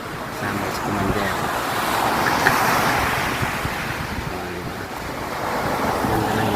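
Restless sea waves wash continuously onto a beach, a loud, steady broadband roar of surf with wind buffeting the microphone throughout.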